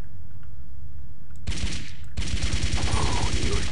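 Rapid automatic gunfire in the shooter game Blood 2, two loud sustained bursts of dense repeating shots close up, the second longer than the first.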